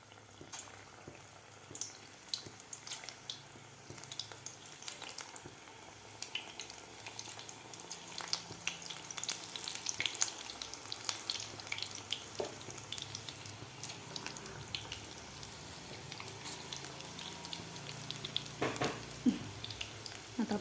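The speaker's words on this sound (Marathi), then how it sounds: "आपलं तेलसुद्धा गरम झालेलं आहे. तर आता आपण सोडूया मेथीचे पकोडे." Methi (fenugreek) pakoras drop into hot oil and fry with a soft, bubbling crackle and scattered sharp pops, a quiet and steady background sizzle.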